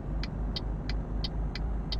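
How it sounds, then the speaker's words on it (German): A Mercedes truck's turn signal in Euro Truck Simulator 2 ticks at a steady pace, six crisp clicks about a third of a second apart, over a continuous low engine rumble. "Gutes Mercedes-Blinker-Geräusch."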